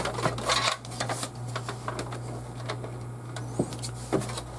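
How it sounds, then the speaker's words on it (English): Close, small clicks and scrapes of a Phillips screwdriver working screws out of the power supply in a Dell XPS 8930 desktop, irregular and light over a steady low hum. "You need a Phillips head screwdriver to remove it."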